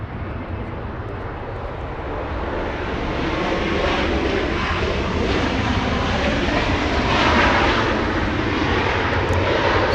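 A Southwest Airlines jet arriving at Los Angeles International Airport from Phoenix, a loud, broad engine roar that swells steadily and holds, with no talk over it.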